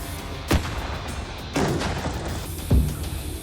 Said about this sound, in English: So the second explosion happens, and we are astonished.